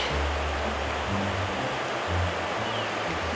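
Perry Creek flows somewhere below a steep wooded ridge, a steady broadband rush of moving water heard from a distance with no other sounds over it.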